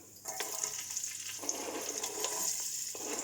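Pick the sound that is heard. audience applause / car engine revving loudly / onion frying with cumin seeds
onion frying with cumin seeds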